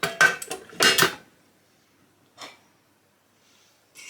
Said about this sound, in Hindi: अब प्रेशर कुकर को ओपन कर लेते हैं